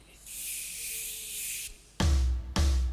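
Several people imitate the hiss of bear spray with their voices during a classroom workshop activity: a sustained breathy hiss of about one and a half seconds, then two short, loud, noisy bursts close together.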